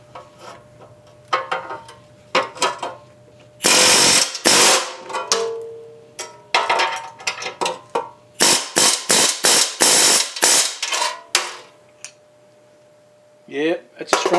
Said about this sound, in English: This is my little air gun, my air chisel, and I'm using this as a bucking bar.